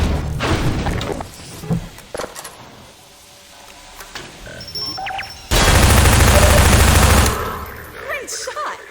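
Half-Life 2 Episode One combat brings loud gunfire, with sharp shots and thumps early on, a quieter lull, then a long, dense burst of roaring automatic fire before scattered impacts.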